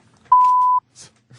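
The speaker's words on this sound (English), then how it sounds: "You hit the beep button." A single censor beep, a clean steady tone lasting about half a second, loud and isolated, with brief fragments of radio talk around it.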